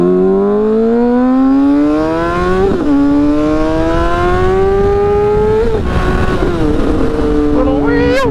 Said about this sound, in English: Gosh, I love this noise. I'm telling you, man, this bike absolutely screams right now